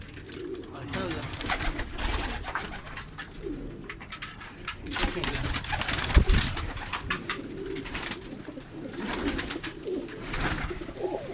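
Low, throaty pigeon coos repeat under nearby rustling and handling noise, with a few faint voices mixed in.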